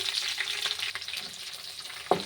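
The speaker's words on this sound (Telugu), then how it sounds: "ఆయిల్ వేడయ్యాక పోపు దినుసులు వేసుకోండి అలాగే పచ్చిమిర్చి" Green chillies and tempering spices sizzle and crackle in hot oil in a pan, a close, continuous frying hiss with small pops and one sharper burst near the end.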